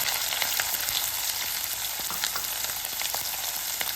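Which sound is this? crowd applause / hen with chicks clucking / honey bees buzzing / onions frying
onions frying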